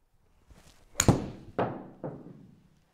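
A golf club strikes a golf ball with a solid, sharp thunk, followed by two fainter thuds in quick succession, close and clear against a quiet background with no talking.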